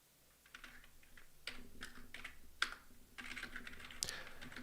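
Someone types on a computer keyboard, producing a steady run of close, crisp key clicks with uneven rhythm and a few louder taps, with no talking over it.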